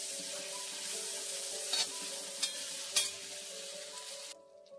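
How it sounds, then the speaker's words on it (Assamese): Crushed ginger and garlic fry in a pan with a steady, close sizzle. Three brief stirring scrapes break the sizzle before it stops abruptly near the end. "এইখিনিও আদা নহৰু গোন্ধটো যোৱালৈকে অলপ ভাজি ল'ম।"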